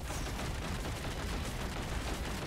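Shotgun fire in the Risk of Rain 2 video game, a dense unbroken barrage of overlapping blasts that stays loud and steady from start to finish with no pauses.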